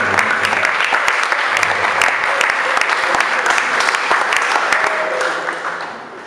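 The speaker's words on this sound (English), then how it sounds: "Please, can you give yourselves a round of applause?" Loud applause fills a room as an audience claps for itself, crisp individual claps standing out within the dense patter before it gradually thins and dies away.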